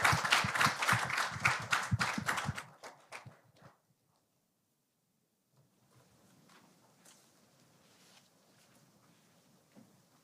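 Audience applause for Professor Lee during an academic session at the 2023 K-ESG Conference: a burst of lively clapping from many hands that quickly thins out and fades to near silence, followed by faint room rustling.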